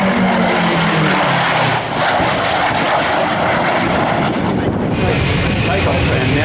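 Propeller aircraft roaring past at close range during an air display, a loud, sustained engine drone with a falling tone as it passes, with a voice speaking partly under it.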